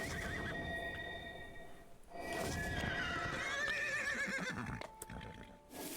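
A video-game horse whinnies loudly with a long, wavering neigh, alongside faint hoof clip-clops and a steady background tone.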